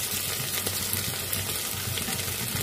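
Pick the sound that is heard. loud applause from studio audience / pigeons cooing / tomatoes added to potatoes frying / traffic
tomatoes added to potatoes frying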